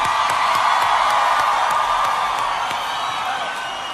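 Crowd at a concert, steady broad roar of applause and cheering that fills the space, with scattered whoops and claps throughout and a slight easing toward the end.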